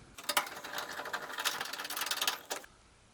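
A socket wrench ratchets on the terminal block nuts of a clothes dryer, a quick close run of fine clicking for a couple of seconds before stopping.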